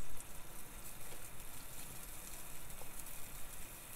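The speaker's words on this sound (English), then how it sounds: "we'll let that come to a nice simmer" Heavy cream pan sauce for pan-seared chicken breast simmering in a pan, a steady soft bubbling and faint sizzle that holds at an even level throughout with no voices.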